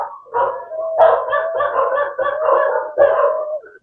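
Several small house dogs bark and yap in quick, overlapping bursts close by indoors, a continuous excited chorus with no talking.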